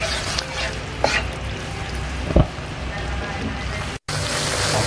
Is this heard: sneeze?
no